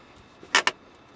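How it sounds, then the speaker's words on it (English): The electronic parking brake of a 2012 VW Passat engages with two quick, close buzzing clicks in a row inside a quiet cabin. "Parking brake."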